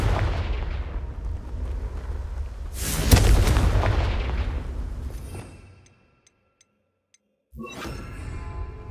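Confringo fire-spell blasts in the Hogwarts Legacy video game during broom flying exploration, a booming artillery-like burst rolling over steady rumble, then fading to near silence before another abrupt blast hits.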